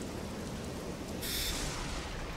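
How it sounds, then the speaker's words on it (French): Rain falls over a marshy area as a dense, steady hiss, rising briefly to a brighter, louder patter midway. "Sur laquelle il pleut, comme vous l'entendez."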